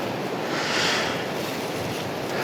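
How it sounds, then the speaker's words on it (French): Strong wind blowing through a forest in spring, a loud, steady rushing roar with a swell of gusting near the start, no voices. "il y a beaucoup de vent là maintenant"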